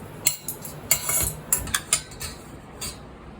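Metal utensil scraping and clinking against a pan in quick irregular strokes as roasted gram flour and sugar are stirred together, close and moderately loud.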